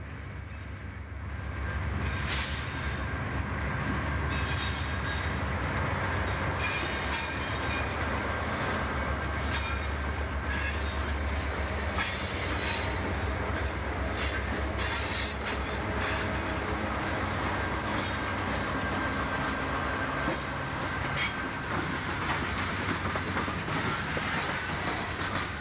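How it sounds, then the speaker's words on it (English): Freight train led by new Susquehanna GE B40-8 diesel locomotives, a steady loud rumble of rolling cars with faint wheel clatter, continuous throughout with no talk. "Lead Susquehanna 4006 and trailing 4008 were new GE B40-8s."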